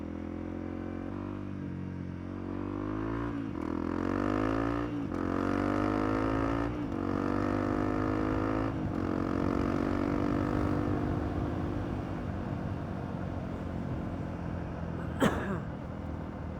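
Honda CRF300L motorcycle engine revving up and down through several rising and falling pulls, with revs hanging before dropping, loud and close, ending with a brief sharp noise.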